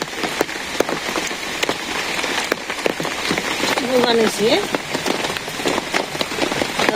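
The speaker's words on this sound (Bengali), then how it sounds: "বৃষ্টি শুধু পড়তে আছে বৃষ্টি খালি বৃষ্টি শুধু বৃষ্টি খালি" Steady rain falls on a surface, a dense even patter with scattered louder drops, close and continuous throughout, with a brief voice faintly in the background.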